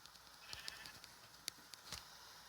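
Sheep bleating in a French Minecraft-style video game, several short game bleats scattered over about two seconds against a faint background hiss, with no talking.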